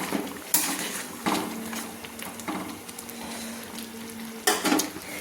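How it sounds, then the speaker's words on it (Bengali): Chicken curry with egg simmers in a pan just after water is added, a soft bubbling hiss punctuated by a few sharp spoon scrapes at uneven intervals. "জলটা অ্যাড করে দিয়ে আমি আবারও একটু নেড়ে নিলাম।"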